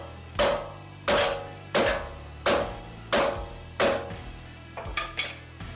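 A hammer strikes the steering spindle of a Chevrolet Silverado to break the upper ball joint loose: six loud, evenly spaced metallic blows ring out, then a few lighter, quicker taps.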